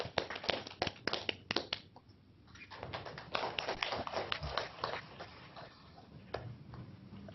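An audience applauds a presenter, Pak Ricky Wenang, at a seminar before a workshop, a burst of close, crisp clapping that thins out and trails off into scattered claps.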